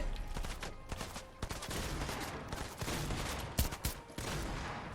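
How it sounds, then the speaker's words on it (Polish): Gunfire in a Fortnite video game shootout: repeated sharp shots in irregular bursts, with louder close cracks near the middle and toward the end, over steady game noise. "Strzelam się z nim."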